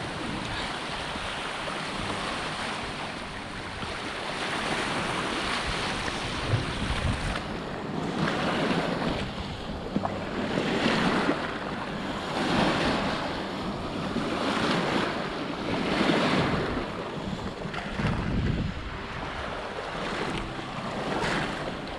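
Sea waves wash onto a beach at Danes Dyke in a steady, broad rushing roar, with surges swelling and fading every few seconds under gusty wind buffeting the microphone; no voices.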